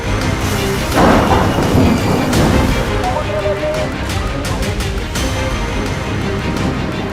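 Heavy pre-monsoon rain falls steadily in Karnataka while deep thunder rumbles and cracks through the downpour, loud and close.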